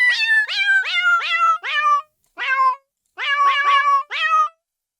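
Synthesized cat meows play from an interactive Rive piano set to a cat sound, eight bright, close meows in quick runs with two short pauses.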